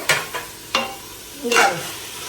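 Mushrooms fry in a pan with masala mix as a spoon makes three quick scraping stirs against the metal over a soft, low sizzle.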